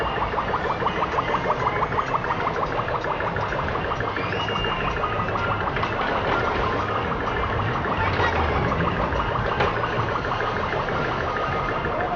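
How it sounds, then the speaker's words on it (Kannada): A car engine runs steadily throughout, a continuous mid-pitched hum with a fast rhythmic throb, moderately loud and close, no clear start and no voices. "ಇಲ್ಲಿ ಕಾರ್ ರನ್ನಿಂಗ್ ಸ್ಟಾರ್ಟ್ ಆಗುತ್ತೆ ನೋಡ್ಕೊಡ್ರಿ."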